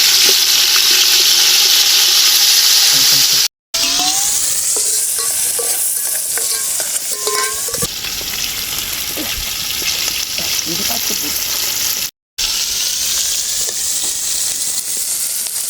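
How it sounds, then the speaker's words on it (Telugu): Onions and tomatoes fry in hot oil for chicken biryani, a loud, steady close sizzle with stirring and clinking, broken by two brief cuts to silence. "ఇప్పుడు వేసిన నూనెలోకి ఉల్లిపాయలు టమాటాలు అన్ని ఒకసారి వేసుకుంటున్నాం."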